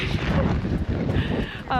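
Strong Icelandic wind buffets the microphone in a steady low roar, with a voice speaking underneath and a brief tonal whistle near the end.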